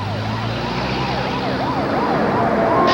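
A wailing emergency siren rises and falls repeatedly over steady traffic rumble, growing slightly louder toward the end.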